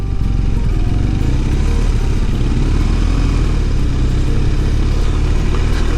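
BMW R1250RS motorcycle climbing uphill on a road, a steady loud low engine drone with wind rush, continuous throughout with no talk.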